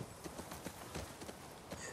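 Horse hooves clip-clopping on hard ground in The Last of Us Part II, a quick, uneven run of close hoof strikes at a steady trotting pace with no talk over them.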